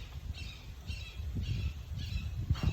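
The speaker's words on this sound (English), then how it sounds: "Can you hear that hawk in the background?" A hawk calls in the background with repeated shrill squawks, four or five evenly spaced cries over a low room rumble, faint and distant with no talk.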